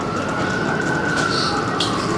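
An ambulance siren in Indonesia holds a steady, sustained wail at moderate distance, running continuously over a low rumble of background traffic noise.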